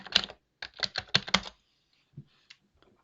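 A password typed on a computer keyboard, a quick burst of crisp close keystrokes, then a pause and a few isolated taps.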